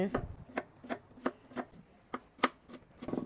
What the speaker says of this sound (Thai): หั่นเลยค่ะเป็นชิ้น